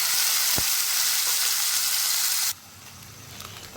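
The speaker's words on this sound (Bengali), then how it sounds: "কড়াইয়ে আর একটু তেল দিয়ে আমি আদা, লঙ্কা আর টমেটো বাটাটা এর মধ্যে দিয়ে দিচ্ছি" Ginger, chili and tomato paste hit hot oil in a wok, giving a loud, close, steady sizzle that suddenly drops to a quieter bubbling fry partway through, with no talking.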